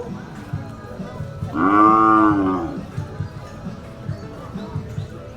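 A single loud, drawn-out moo from cattle at the Bacong livestock auction stockyard, lasting about a second over a busy background of crowd chatter and yard noise.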